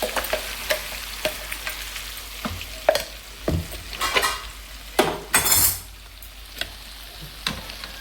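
Oil sizzles in a pan as a tempering is made for coconut chutney while a spoon scrapes and stirs in irregular strokes, with a few metallic clinks and a brief louder hiss.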